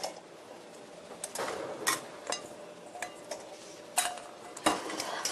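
Egg yolks are whisked in a bowl for a soft roll cake batter, making irregular light clinks and taps of the whisk against the bowl, close and clear over a quiet room hum.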